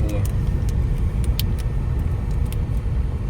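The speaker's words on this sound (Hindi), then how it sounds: "इंडिया की गाड़ी आ रही है" A vehicle rumbles steadily across the 342-metre Rapti river bridge, a continuous low road roar with faint higher clicks, close and even throughout.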